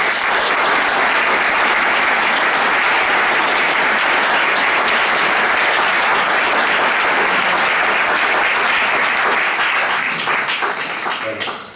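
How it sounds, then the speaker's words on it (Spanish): A large audience bursts into loud, sustained applause at a speech event, dense clapping holding steady for about eleven seconds before starting to fade. "le cedo la palabra con un fuerte aplauso"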